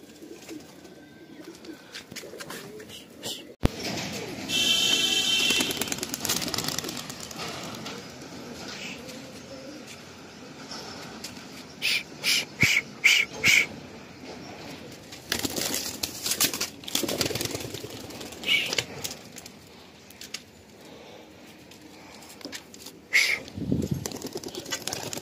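Seven female pigeons are released one at a time, with bursts of wing flapping and fluttering scattered across the clip, occasional coos and crinkling handling noises, close by and fairly loud, no talk.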